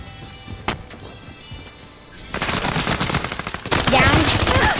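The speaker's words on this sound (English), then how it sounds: "there's a sentry gun over here" Sentry gun fire in Call of Duty: Modern Warfare, a quiet stretch and a single crack giving way to sustained rapid automatic bursts that grow louder and denser toward the end.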